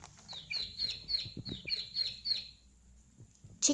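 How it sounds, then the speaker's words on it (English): A chicken clucks in a quick run of short, bright calls, fairly close and alone, ending with one louder squawk. "Chicken,"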